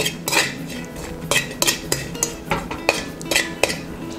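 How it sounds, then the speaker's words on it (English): Savory-sweet trail mix with raisins is stirred in a bowl, producing close, irregular clinks and rattles of utensil against dish at a quick, uneven rhythm, with no one speaking. "mix it well."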